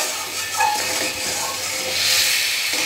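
Ginger-garlic spice paste sizzles as it fries in a pan, a steady close hiss with faint clinks, heard alone without talk.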